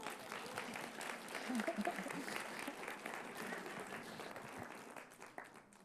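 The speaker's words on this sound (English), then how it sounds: "Give them a round of applause." Audience applause at a children's program talk, steady clapping from a crowd with some voices and talk mixed in, moderately loud and fading slightly toward the end.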